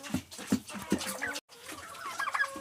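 Hens cluck in short repeated bursts close by inside a barn shared with turkeys, with a brief gap and then more clucking and soft bird calls.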